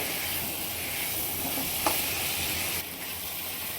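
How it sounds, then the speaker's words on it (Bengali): Vegetables being sautéed with spices in a pan, a continuous close sizzle and hiss with a brief scrape partway through, then the frying noise drops slightly. "সবজিগুলো একটু মশলার মধ্যে নেড়ে চেড়ে নেব।"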